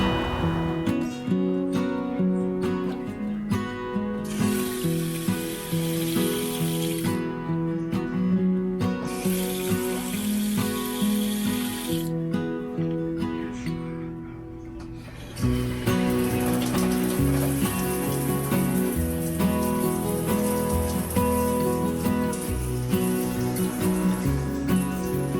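Water runs from faucets inside an RV during sanitizing: a continuous splashing stream into a sink, close and fairly loud, dipping briefly as the flow changes and then picking back up.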